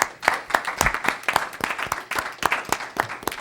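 A school board meeting audience applauds a group of students, with steady, fairly dense clapping from a modest crowd in a meeting room, the individual claps clearly distinct and close, lasting several seconds without voices.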